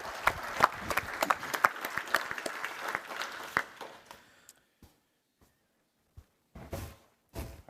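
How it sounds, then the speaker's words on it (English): A round of applause from the audience at an Army Reserve seminar panel, brisk clapping for about four seconds that trails off into near silence, followed by a few faint stray sounds. "let's give him a round of applause."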